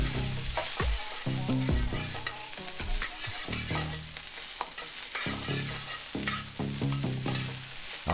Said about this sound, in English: Now let's go ahead and give this a little mixy mix.